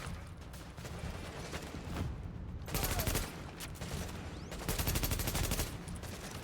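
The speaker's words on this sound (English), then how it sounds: "Little bit annoying how that turret just fires, always." Repeated automatic gunfire from a turret in a video game set during an apocalypse in New York City, coming in sustained bursts that swell and fade, fairly loud against a busy background of game noise.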